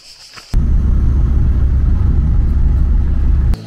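A car pulling away, its engine settling into a steady, loud rumble that starts abruptly and holds evenly for about three seconds before cutting off, with no talking over it.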